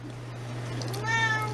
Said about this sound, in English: So ignore the meowing in the background.